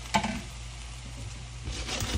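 Taco beef breakfast scramble frying in a pan, a steady soft sizzle with a clink of a utensil near the start and light stirring scrapes toward the end.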